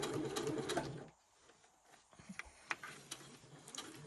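Domestic sewing machine running in bursts while stitching a slipper seam with a fresh sharp Microtex needle, a steady whirring hum that stops briefly mid-way, then resumes with light clicks and ticks.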